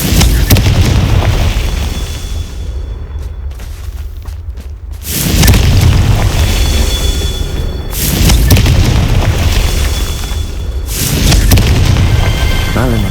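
Repeated booming blasts of the Confringo explosion spell in Hogwarts Legacy, played as a Gryffindor on Xbox Series S: loud, dense bursts recurring roughly every three seconds over a constant game soundscape, alone with no talk.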